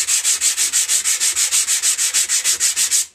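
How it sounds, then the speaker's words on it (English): Rhythmic back-and-forth sanding strokes of fine wet and dry abrasive paper, about seven per second, steady and close, with no voices. "just sanding the paper down."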